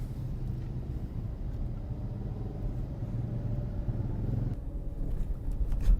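A car pulling away through an open railway crossing gate near a riverside village, with a steady low engine rumble that stays moderately loud and even throughout, with no voices.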